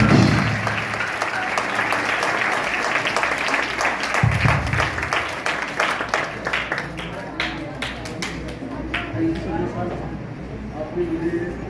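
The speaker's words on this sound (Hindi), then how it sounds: "एक बार जोरदार तालियों से" Enthusiastic audience applause rises to welcome the guest of honour onto the stage at a school event, sustained dense clapping over a low crowd murmur, with faint voices mixed in beneath it.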